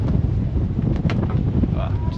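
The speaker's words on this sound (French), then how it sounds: "petite rafale à 17." A gust of wind buffets the microphone on a sailboat at sea, a loud steady rushing roar over two seconds, with someone talking over it.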